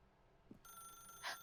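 A telephone rings inside The Stanley Parable video game, a faint electronic ring that starts abruptly and swells briefly near the end, heard alone and quietly.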